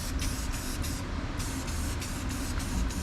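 Undercoating is sprayed thickly onto a Duramax truck frame as a loud, continuous hiss with rhythmic pulses, close up and with no talking.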